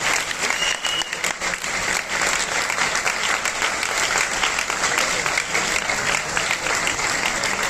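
Steady, dense applause from a large seminar audience, loud and continuous throughout with no break.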